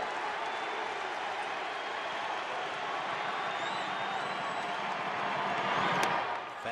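Baseball stadium crowd at a Rockies-versus-Dodgers game, a broad steady roar of cheering and applause that swells toward the end, with a sharp crack near the close.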